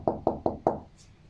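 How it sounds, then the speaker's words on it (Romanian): Four sharp knocks on a door in quick, even succession, close and clear, followed by a brief soft rustle. "Bate cineva la ușă?"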